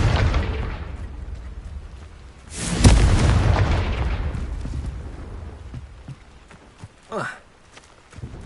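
A Confringo blasting spell from Hogwarts Legacy goes off as one loud, sharp burst partway through, set against a low rumbling game soundscape and a voice.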